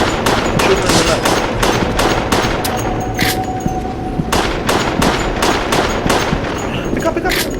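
Rapid automatic gunfire in Resident Evil: The Darkside Chronicles, with dense repeated bursts and single shots crackling loudly across the whole stretch, plus occasional faint voices underneath.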